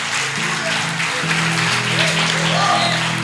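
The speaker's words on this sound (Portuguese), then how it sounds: "Dê uma salva de palmas ao Senhor em nome de Jesus" A church congregation applauds during a worship service, a steady wash of clapping running throughout over sustained organ or keyboard chords, with a faint voice near the end.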